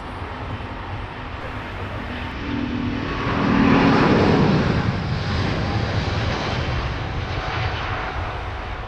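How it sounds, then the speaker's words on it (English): A Malaysia Airlines Airbus A350-900 roars down the runway on its takeoff roll at Heathrow, a broad, steady jet rumble swelling louder midway and holding strong, heard from a distance. "Already rolling our next departure, Malaysia Airlines A350-900 off to Kuala Lumpur."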